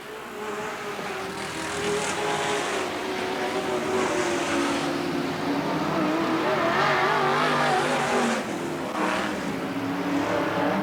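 Loud, continuous engine roar from a race car with a leaky exhaust header at a speedway, with a rough, raspy exhaust note that swells and shifts as it passes, no talking.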